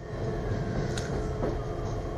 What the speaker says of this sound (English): do a bit more filming from the train departing